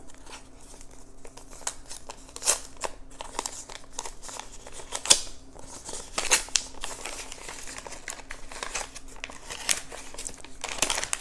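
A basketball card pack being torn open by hand, with crinkly foil wrapper rustles and short sharp tearing bursts scattered over several seconds, close and moderately loud with no talking.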